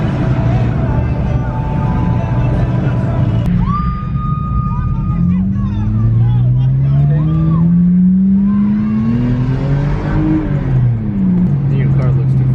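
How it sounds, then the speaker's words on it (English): Cars cruise past in heavy traffic at a packed car meet, engines revving and rising in pitch as vehicles roll by up close, with a steady rumble underneath and people talking over it. "Dude, look at how much traffic there is. There's all people cruising here."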